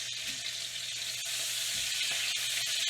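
Pan-seared steak sizzling in butter in a pan, a soft, even crackling hiss close by with a couple of faint taps, no talking.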